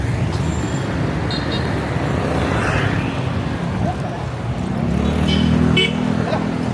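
City street traffic near the Capitol in Cebu, a constant roar of passing cars, buses and engines with occasional horn toots, moderately loud and near, and people talking over it.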